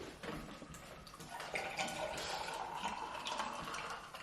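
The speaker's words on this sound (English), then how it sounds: "You can pour your own drink." Liquid pouring into a cup during a casual KFC meal at a table, a steady filling stream running for several seconds, moderately close and alone without talk.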